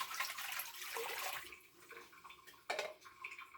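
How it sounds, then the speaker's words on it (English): Bouillon pours into a pot in a soft, splashing stream for a couple of seconds, then a short second splash, quiet and close. "I'm going to pour it in this pot."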